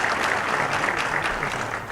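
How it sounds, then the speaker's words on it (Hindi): At an MoU signing ceremony between Jammu and Kashmir and NECBDC on bamboo entrepreneurship, an audience gives a brief, dense burst of steady applause that fills the room for two seconds. "जोरदार तालियां होनी चाहिए।"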